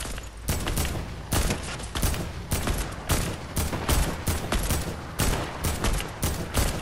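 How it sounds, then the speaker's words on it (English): Rapid bursts of gunfire from the video game Fortnite crack out at an irregular rhythm, close and fairly loud, with no speech over them. "I'm making all my shots right now."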